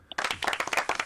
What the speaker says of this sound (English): when's the last time we did a round of applause for a question? Can we do one now, please?